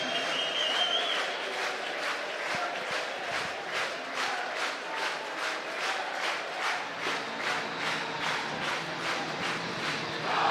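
Coventry Blaze fans cheer and clap in a large arena crowd during an EIHL ice hockey game against the Nottingham Panthers, a steady, sustained roar with rhythmic pulses of chanting and clapping throughout.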